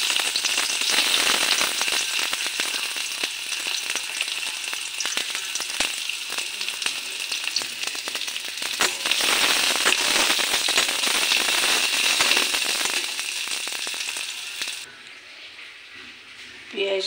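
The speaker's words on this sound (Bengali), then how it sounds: "পেঁয়াজটা ভাজা করে নেব" Onion fries in oil in a wok, giving a loud, continuous crackling sizzle that carries on steadily and then drops off sharply near the end.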